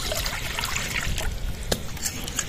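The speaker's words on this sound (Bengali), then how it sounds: "কড়াইতে জল দিয়ে দেবো।" Water is poured into a wok set on a lit stove, making a soft, continuous trickle and splash at close range, with a faint clink near the end.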